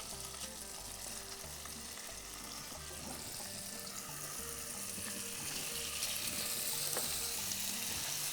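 Strips of meat fry in butter, oil and lemon peel in a pan, a steady close sizzle that grows slightly louder toward the end, with faint clinks and no talk.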